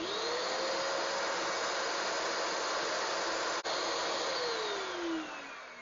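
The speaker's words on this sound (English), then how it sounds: "I put now the dust extractor in full power" Dust extractor motor running at full power while a UNI-T UT207B current clamp reads its inrush, a steady loud broadband whoosh with a whining tone that dips briefly and drops in pitch and level near the end; no talk.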